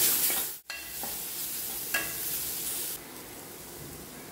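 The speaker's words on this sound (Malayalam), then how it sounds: "2 ടീസ്പൂൺ മുളക് പൊടി, 1/4 ടീസ്പൂൺ മഞ്ഞൾപ്പൊടി ഒന്നും കൂടെ വഴറ്റിയെടുക്കാം." Chili powder, turmeric and chopped tomato sautéing in a pan, a steady close sizzle with a few scraping stir strokes and a brief dropout near the start, no voices.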